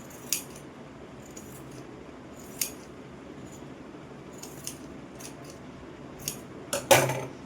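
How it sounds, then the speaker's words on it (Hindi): Scissors cutting the extra fabric of a long kurti, a handful of crisp snips spaced irregularly over quiet room tone, the last one loudest, with no talking. "हम इसकी एक्स्ट्रा कपड़े की कटिंग कर देंगे।"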